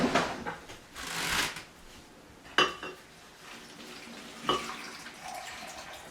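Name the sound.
water poured onto paper for recycling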